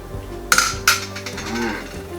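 Balsamic vinegar and oregano are stirred together in a bowl with a utensil, giving a couple of clear clinks against the dish followed by soft scraping, close up and alone.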